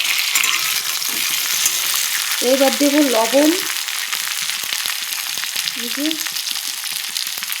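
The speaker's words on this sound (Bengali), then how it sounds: "তো পেঁয়াজ ভাজা করে এই যে আলু দিয়ে দিলাম, আলুগুলো ভাজা হয়ে এসছে এই দেখো।" Potatoes sizzle in a pan with onions that were fried first, a steady broadband hiss running throughout while a person speaks briefly twice over the frying.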